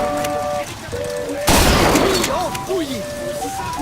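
Gunfire at a shooting gallery in BioShock Infinite, a loud burst of rapid shots erupting midway over game music and ambience, with a voice speaking around it.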